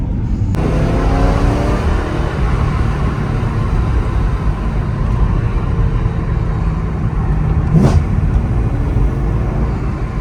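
A 440 bhp E92 BMW M3 Competition engine roars steadily at high revs close by while accelerating, with a brief whooshing pass near the end.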